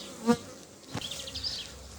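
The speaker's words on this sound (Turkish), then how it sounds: "Arı işliyor şu anda." Honeybees buzzing at an open beehive during a May hive inspection, a steady close insect drone with a brief louder thump near the start and no voices.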